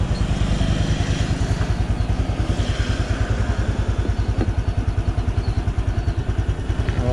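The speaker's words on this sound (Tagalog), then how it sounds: "naka-idle lang yan mga boss" A Honda XRM 125 Fi motorcycle idles close by, its single-cylinder engine putting out a rapid, even putter with light mechanical clatter, steady and alone for several seconds.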